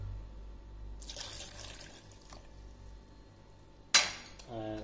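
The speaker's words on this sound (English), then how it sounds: "let's take a jar and add pineapple into it and add some milk" Milk poured into a jar holding pineapple pieces, a splashy liquid pour with a sharp clink of the jar near the end, heard close up without talk.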